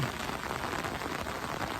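Heavy rain pours down in a continuous dense hiss, loud and steady with no gaps or voices over the short stretch.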